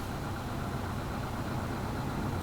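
A car engine in the BeamNG.drive sim winds down in neutral, a steady, fairly loud broadband drone and rumble with no clear revving, alone without talk.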